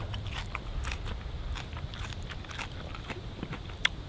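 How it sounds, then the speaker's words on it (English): Someone chewing a mouthful of a foraged wild edible plant outdoors, soft repeated crunchy bites close to the mic over a low steady rumble of background noise. "I'm gonna eat a little bit of it just because I don't want to have a handful of it and not eat it"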